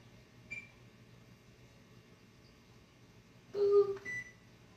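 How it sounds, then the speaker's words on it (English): An oven timer being set for an hour beeps, with a short beep early on and then a louder cluster of electronic tones near the end over quiet room hum. "I'm going to at least set the timer for an hour."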